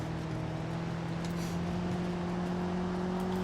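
A car engine in the driving game BeamNG Drive hums with a steady, droning tone at an even pitch, continuous and moderately loud, with no speech over it.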